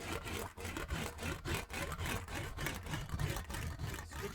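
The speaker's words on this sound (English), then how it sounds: "I'm going to get into wheeling this in a different direction with a different die." An English wheel rolls a sheet metal tail panel back and forth in a steady rhythmic rasp, each pass a close, scraping surge with brief dips between strokes.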